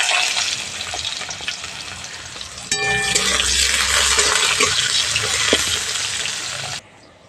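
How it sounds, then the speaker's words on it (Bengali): Eggplant pieces frying in oil left over from frying fish, a steady sizzle with stirring and clinks running throughout, close and fairly loud, then stopping abruptly near the end. "মাছ ভাজা তেলের মধ্যে কেটে রাখা বেগুনগুলো ভেজে নিচ্ছি।"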